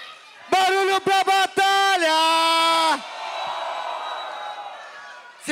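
A rap battle audience at a state final makes noise, with loud drawn-out whooping shouts broken into bursts, then a broad, softer roar of cheering voices.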